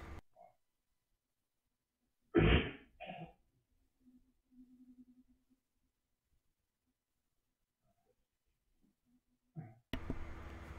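A pair of short, sharp coughs in a quiet room, followed by a faint murmur and silence, then a burst of noise at the end.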